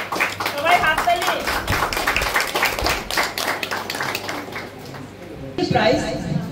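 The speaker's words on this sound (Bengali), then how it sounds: "সবাই হাততালি।" An audience claps at a Rabindra Jayanti prize-giving ceremony: dense, rhythmic clapping from a nearby crowd, with a voice speaking over it before a brief lull and a fresh burst near the end.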